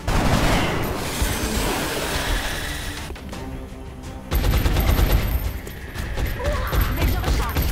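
Gunshots in the strategy game X-Com, loud sustained bursts of rapid fire that drop out briefly, then return with a heavy boom and more crackling shots, with a voice speaking over the noise.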